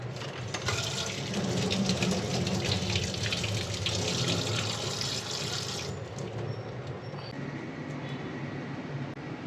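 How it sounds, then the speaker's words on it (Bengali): Tap water runs steadily over bay leaves being washed in a home kitchen while a meat dish is prepared, a loud, continuous hiss that stops abruptly partway through, leaving quieter kitchen noise. "তেজপাতাটা ধুয়ে নিব।"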